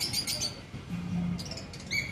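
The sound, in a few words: birds chirping at a temple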